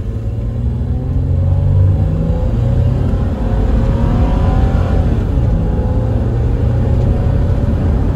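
A supercharged 1997 Toyota 4Runner with a Magnuson supercharger accelerates hard from a standstill toward 60, its engine a deep, steady rumble rising through the gears, loud and close, with no talking.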